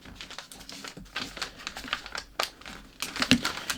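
Paper pattern on a half-scale dressform being folded and handled, with close crinkling and rustling in irregular bursts and a few sharp taps.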